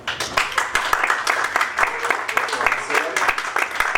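Audience applause at a school forum on COVID-19 orphanhood, steady clapping from a crowd for about four seconds, fairly loud and dense throughout.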